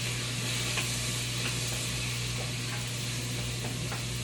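Food being stirred and mixed in a cooking pan, with a steady, close sizzling hiss and faint scraping under a constant low hum, no voices.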